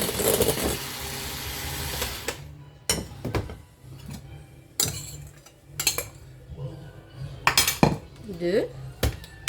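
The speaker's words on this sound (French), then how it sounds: "on va rajouter les blancs en neige. Faire ça à la cuillère" A spoon folding beaten egg whites into batter in a bowl gives a scraping rush, then repeated clinks and knocks of the spoon against the bowl, close and irregular.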